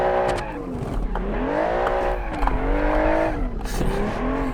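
Engine of the Apollo S36, a Porsche 911-inspired Group B rally car in a racing game, revving with rising and falling pitch while drifting, with tire squeal at moments, loud and continuous throughout.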